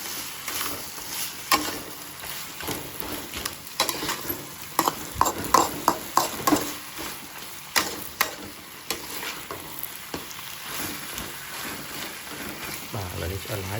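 Sweet and sour stir-fry sizzling in a hot pan, with steady frying hiss broken by repeated scraping stirs and clinks of a utensil against the pan, close and moderately loud throughout.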